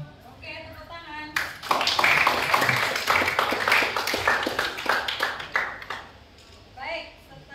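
A classroom of students breaks into applause, steady crowded clapping that starts abruptly, swells, then tapers off, with a teacher talking before and after.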